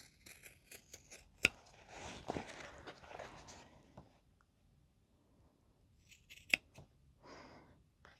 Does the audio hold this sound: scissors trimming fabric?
yes